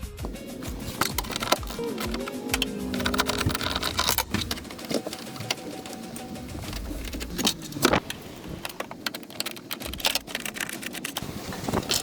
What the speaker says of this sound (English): we're going to use a 10mm socket to remove this, that, and that